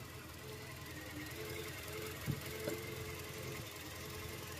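A Toyota Innova engine, being checked for vibration and low power, runs at a low steady idle, with a couple of brief throttle blips partway through. No one speaks.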